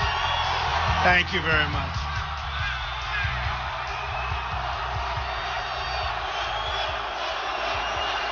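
Rally crowd in Pittsburgh for a presidential candidate cheering and whooping as a steady, loud roar of many voices, with shouts rising near the start and someone speaking over the crowd throughout.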